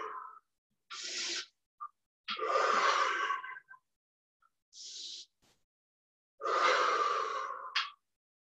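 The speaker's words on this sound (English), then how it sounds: "We're going to breathe fire to the other side." Rapid, forceful breath-of-fire yoga breathing during a family yoga session, several bursts of loud, close panting through the nose and mouth with short silent pauses between them.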